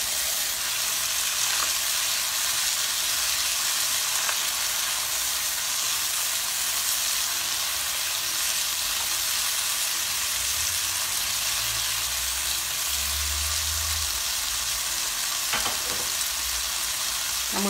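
Onions frying in a pan for a frittata give a steady, close sizzle throughout, with a few faint clicks of utensils against the pan and no voices.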